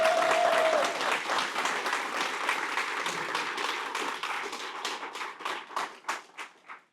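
Audience applause for staff at a Bronx community center ribbon cutting, a full burst of clapping that thins into scattered individual claps and tapers off, with a brief tone at the start.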